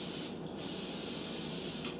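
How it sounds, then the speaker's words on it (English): Cooking spray hisses from an aerosol can onto loaf pans in two close bursts, the first brief and the second long and steady, loud and alone. "And if you spray from a distance, it spreads out evenly."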